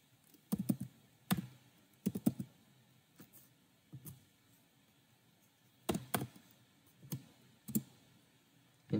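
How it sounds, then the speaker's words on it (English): Typing on a computer keyboard in a quiet room: irregular bursts of close clicks and knocks that come in quick clusters, with short pauses between them and no one talking. "And I'm going to type in Malwarebytes."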